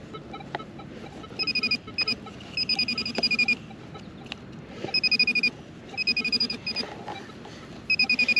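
Short bursts of a high electronic warbling tone from a metal detector over a buried penny in a park repeat at irregular intervals over faint background rustling, clear and close.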